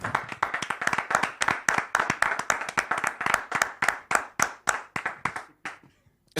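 A church congregation claps in steady unison to acclaim the Lord, about twenty sharp rhythmic claps in quick succession, loud and close, slowing and fading to a final few scattered claps.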